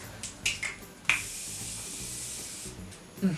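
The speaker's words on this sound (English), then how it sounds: "When I spray it on, I feel thirsty because it's so hydrating, and it's just like a water spray." A hydrating facial mist spray gives a few quick pump clicks, then one sustained soft hiss of fine spray lasting about a second and a half, close and fairly quiet.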